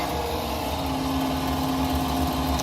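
An Aeromotive fuel pump primes on a twin-turbo Subaru, giving a steady, quiet electric hum with a low droning undertone, even and unbroken throughout.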